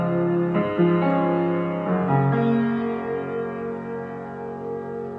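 Piano arpeggios from a song ring out in sustained, overlapping chords, with new notes entering around the half-second and two-second marks and then decaying slowly.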